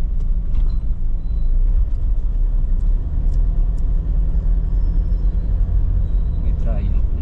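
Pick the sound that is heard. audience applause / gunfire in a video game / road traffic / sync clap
road traffic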